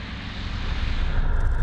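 The engine of a Boeing Stearman biplane on landing approach over the runway makes a steady, loud propeller drone that rises slightly and fills the whole clip.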